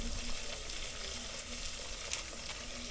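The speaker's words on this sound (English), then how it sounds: "So now I'm gonna add a little bit of garam masala, guys, while frying." Steady sizzling of spices, including garam masala, frying in a hot pan, a continuous crackling hiss with faint stirring, no voices.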